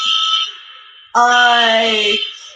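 A quiz time-up buzzer on a live online quiz show sounds, a loud harmonic electronic tone held for about a second, following a fainter, higher tone that fades before it.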